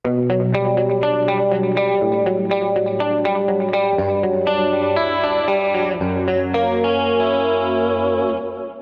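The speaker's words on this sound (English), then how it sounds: "it's also great for jangly, clean tones" A clean, jangly electric guitar with a shimmering chorus effect, played through a TONEX Plug with a TONEX Cab, plays bright picked chords and melody, loud and up front, ringing out at the end.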